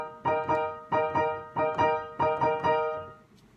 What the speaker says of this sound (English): the big punchy chords sound like this.